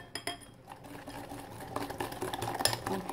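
Hot milk being whisked into beaten eggs for a Basque cake's pastry cream, with quick irregular scraping and tapping of the whisk against a bowl, close and moderately loud, no talking.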